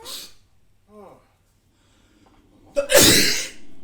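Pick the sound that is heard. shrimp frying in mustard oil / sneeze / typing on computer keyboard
sneeze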